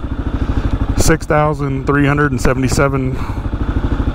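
A Gen 3 Kawasaki KLR motorcycle engine runs close by with a steady, throbbing single-cylinder pulse, partly covered by someone talking over it through the middle, then returning to a clear rhythmic idle.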